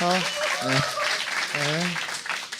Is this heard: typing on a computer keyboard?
no